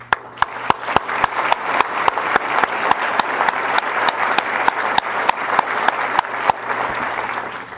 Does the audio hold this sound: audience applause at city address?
yes